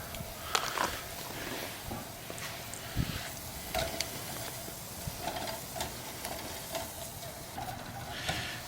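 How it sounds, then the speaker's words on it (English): Flour stirred into garlic oil over a camp stove to make a roux, giving a soft, steady sizzle with scattered scraping stir sounds throughout. "And we're going to add some flour and create our roux."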